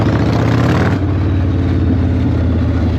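A 1996 Harley-Davidson FLSTF Fat Boy V-twin rumbles steadily and loudly up close as the throttle is twisted, a continuous deep engine note with a slight surge near the first second and no voices.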